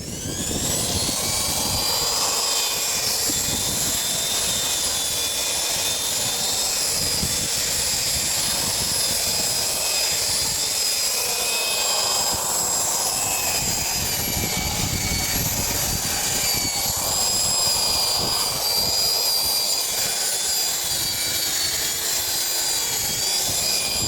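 A giraffe drywall sander with 60-grit paper works across a wooden board, giving a continuous loud, high motor whine over a rough, rushing sanding noise for the whole stretch, with no talking.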